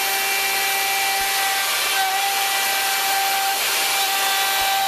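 A steady, high-pitched whine of a handheld router with a steel bit plunge-cutting a mortise into wood, continuous and close throughout, with a faint rasping texture.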